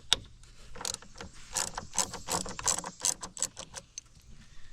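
A wrench works loose the 10 mm terminal bolts on a car battery, giving close, irregular bursts of ratcheting clicks and metallic taps with short pauses between them.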